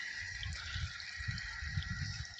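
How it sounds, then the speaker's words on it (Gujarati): Water runs through a half-filled farm irrigation pipeline, a steady soft rushing and gurgling. It is faint and continuous, with no talk. "અહીંયા આવે છે આપણે પાણી અડધી લાઈન ભરાઈને આવે"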